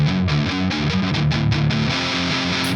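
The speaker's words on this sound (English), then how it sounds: "I was kicking on the flanger" An electric guitar runs through a flanger pedal, playing a rapid, choppy riff of repeated notes with a sweeping, swirling coloration, loud and continuous throughout.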